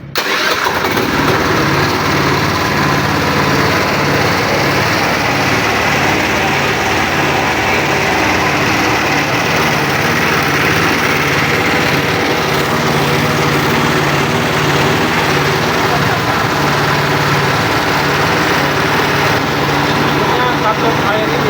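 A combustion engine on a test bench with a water brake starts and runs loudly and steadily at a constant drone for the whole stretch, with someone speaking faintly beneath it.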